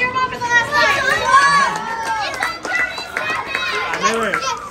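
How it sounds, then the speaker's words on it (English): Cheering crowd of excited voices shouting together as a diner takes the last bite of Ballpark's 28-inch, 10 lb team pizza challenge in Mission Viejo, CA; lively, close, overlapping yells and whoops throughout. "Come on, cheer him on for the last bite."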